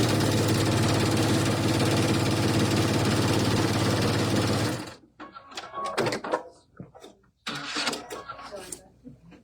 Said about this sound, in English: And we're just going to sew 1/4 of an inch.